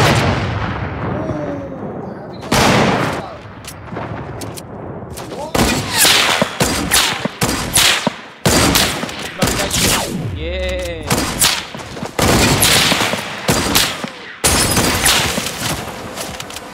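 Sniper gunfire in the Fortnite battle royale game, with repeated loud sharp shots and booming reports scattered across the stretch, interspersed with other game effects and short gaps of near silence.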